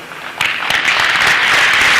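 An audience breaks into applause that builds after a brief pause into a steady, dense wash of clapping, fairly loud and continuous to the end.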